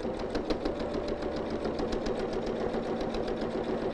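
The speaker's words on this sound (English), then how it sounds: "it's sewing close to the edge. and it'll make your machine go clunk," A home sewing machine stitches along the edge of fabric with boning, running in a fast, even mechanical rhythm of repeated close clunks and whirring, steady for the whole stretch with no speech.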